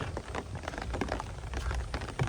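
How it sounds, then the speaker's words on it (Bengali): Heavy rain pours down in a village, a dense close patter of drops striking surfaces steadily throughout, with no voices. "রাত থেকেই খুব বৃষ্টি হইতাছে।"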